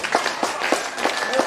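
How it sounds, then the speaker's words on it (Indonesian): A crowd at an indoor gathering breaks into applause, with dense, loud clapping throughout the short burst and a voice speaking over it. "Ayo tepuk tangan."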